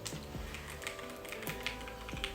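Fingers type on a FIRSTBLOOD B67 mechanical keyboard, a transparent acrylic board with linear switches. Its soft, quiet keystrokes come in an irregular, steady run with no talking.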